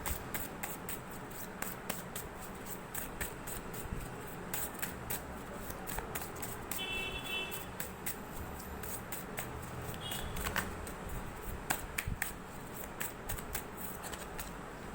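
Tarot cards being handled and shuffled, soft papery flicking and riffling in a steady busy texture, close and fairly quiet, with no speech.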